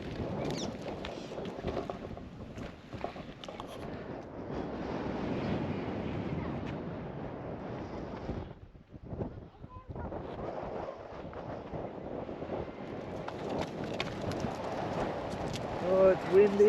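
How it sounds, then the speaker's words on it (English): Strong wind buffets the microphone atop Pildappa Rock near Kimba, Australia, in loud, gusty rumbles that rise and fall, dropping briefly to a lull before roaring again. "Oh, it's windy up here."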